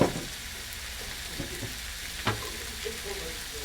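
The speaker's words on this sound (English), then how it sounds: "Okay, we're gonna do the shrimp now." Shrimp frying in sesame oil with lemongrass and ginger give a steady close sizzle, with a few brief stirring knocks and scrapes over the hiss and no talk.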